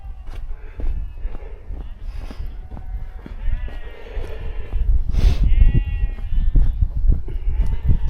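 Several sheep bleat at moderate distance on Pen-y-Ghent in the Yorkshire hills, overlapping calls rising over steady outdoor background noise, with a louder cry near the middle.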